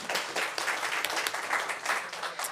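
Moderate clapping from an audience at a county board of commissioners reorganization meeting, a brief patter of applause heard at some distance in a meeting room.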